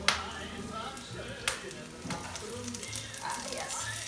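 Chicken browning in an oiled pan, a soft steady sizzle with a few brief clicks and scrapes, close but fairly quiet.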